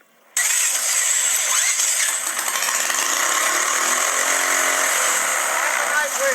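Mini engine on a dyno running on 87-octane regular pump gas catches abruptly and settles into a loud, high, buzzing whine that holds steady to the end, with some roughness early on.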